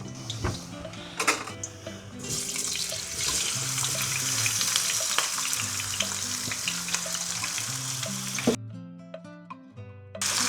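Sliced potato rounds fry in a hot pan with a steady, dense sizzle and crackle throughout, joined by occasional clinks and scrapes of stirring before the sizzle cuts out briefly near the end.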